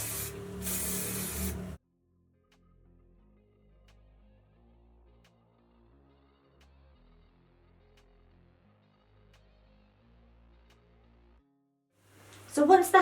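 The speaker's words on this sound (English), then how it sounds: "Just using a little bit of wax spray on Daria's hair" Wax hairspray sprayed onto a child's hair during styling: one loud hissing burst lasting under two seconds, then a quiet room with faint hum, and a second short spray beginning at the very end.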